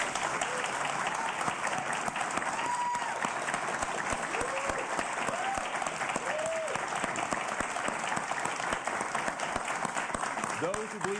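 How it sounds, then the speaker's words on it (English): Town hall audience applauding in response to a spoken poll question, a sustained, dense wash of clapping that fills the whole stretch, with faint voices rising over it now and then. "I want you to respond by the sound of applause"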